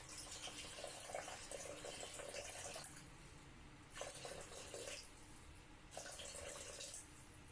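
Water pours steadily into a Thermomix bowl, about 400 grams measured for a korma curry sauce, in bursts with brief pauses between pours, close and fairly quiet.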